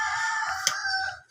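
A chicken clucks and crows nearby, loud and alone, in a short burst.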